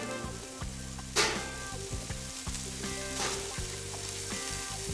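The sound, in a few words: fennel sizzling on grill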